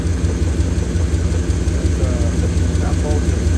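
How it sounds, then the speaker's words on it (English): A 2nd-generation Dodge truck engine idles steadily with seafoam treatment poured in, a loud continuous low rumble close by with a constant throb and no talk over it. "I poured the seafoam into the engine and I'm letting it run."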